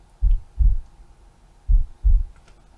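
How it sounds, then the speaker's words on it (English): A heartbeat sound effect played as dramatic music: two paired low thumps, a pause, then another pair, deep and steady with nothing else over them. "We've got heartbeat for dramatic music."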